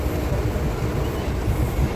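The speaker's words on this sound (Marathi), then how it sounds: "आम्ही ट्रेनमध्ये आहोत" Steady low rumble and rattling clatter of a moving train heard from inside a carriage, loud and continuous throughout with no voices.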